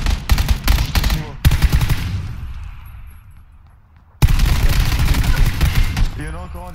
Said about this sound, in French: il y a Swear qui fait des tirs de couverture.